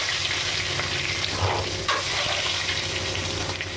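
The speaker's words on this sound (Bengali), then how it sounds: "তেলটা আমার গরম হয়ে গেছে, অল্প করে একটু হলুদ গুঁড়ো দিয়ে আমি আগে ডিমগুলো ভেজে নেব।" Eggs frying in hot oil with a little turmeric give a steady, close sizzle that hisses continuously throughout, with faint scraping now and then. No one speaks.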